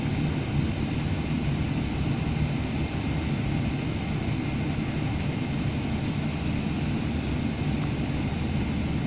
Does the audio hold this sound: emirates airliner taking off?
yes